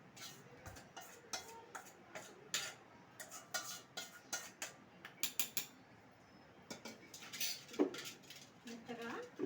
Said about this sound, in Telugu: మెత్తగా దంచుకోవాలి